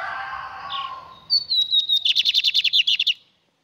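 A pet songbird, a champion tournament singer, delivers a close, loud song: a soft warble, then a rising whistle followed by a rapid series of about a dozen clear repeated notes, ending abruptly.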